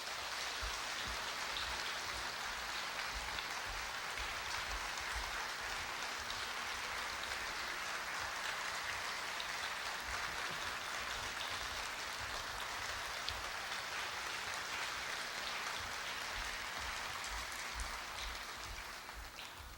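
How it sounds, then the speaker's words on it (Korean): An audience at a university anniversary ceremony gives sustained warm applause, a soft, even patter of many hands continuing throughout, fairly distant and without talk. "따뜻한 박수 부탁드리겠습니다"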